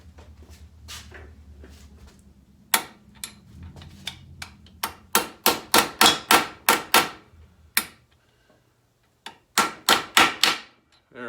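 A hammer strikes a Harley-Davidson wheel bearing race on a 1985 FXRS being driven into its seat, giving sharp metallic taps in quick rhythmic bursts with brief pauses, close and loud, with no talking.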